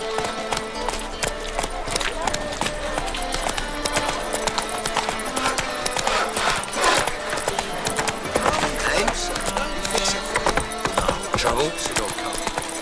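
The horse Roach galloping in The Witcher 3, rapid rhythmic hoof clip-clop close by with occasional snorts, layered over game music and ambience, with a voice speaking.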